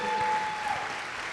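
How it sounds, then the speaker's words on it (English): A short burst of applause from a live dance show audience, dense clapping from a crowd that holds steady and tapers slightly. "Big round of applause for Willow."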